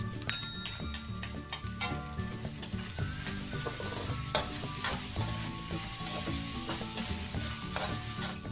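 Boiled, deboned shredded chicken sizzles steadily in a hot pan for noodles, a continuous close frying hiss layered with scraping and clinking of a utensil stirring against the metal.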